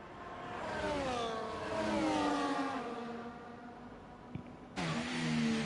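Formula 1 cars in F1 24 racing through Luffield at Silverstone, engines rising and falling in pitch as they pass, with a second car's whine cutting in sharply near the end.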